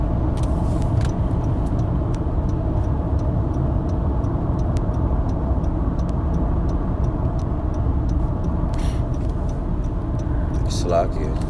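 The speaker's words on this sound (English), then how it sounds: "Jay driving right now" A car cabin carries a steady, loud low engine and road drone from start to finish, with faint regular ticking and a person speaking over it.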